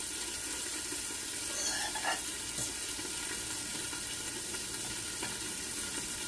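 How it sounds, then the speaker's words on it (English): Eggs frying in a pan for a New York style sausage, egg and cheese sandwich give a steady, close sizzle, with faint scraping as they are stirred, and nobody speaks. "Don't forget to stir it up, stir up the eggs and everything."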